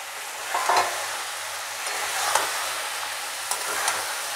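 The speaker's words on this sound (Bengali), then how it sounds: "এবার মাশরুমগুলো ঢেলে দিলাম ওর সাথে" Mushrooms sizzle in a pan with spinach for a curry, with a steady frying hiss and a few brief scrapes of stirring at intervals; no voices.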